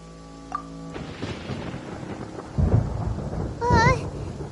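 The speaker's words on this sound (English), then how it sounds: "Paimon hears thunder!" Thunder rolling in the Genshin Impact game world, low rumbling bursts that swell twice over a stormy background, with a short tonal game sound near the end.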